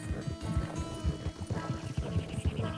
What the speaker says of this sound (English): Man, Hosea's horse is pretty.